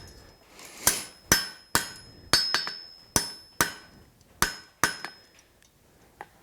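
Hammer blows ring out on hot steel as a blacksmith forges a drift on the anvil, about ten sharp, bright strikes in an uneven rhythm with ringing decay between, close and loud with no talk.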